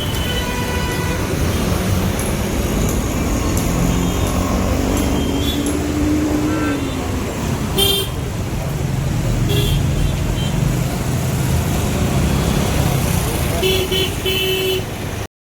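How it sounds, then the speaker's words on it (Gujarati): Busy city road traffic in Surat, India, with a steady dense roar of passing cars and buses, occasional horn toots and a brief tonal engine whine, continuous throughout. "સુરતની ટ્રાફિક જોયેલી હતો."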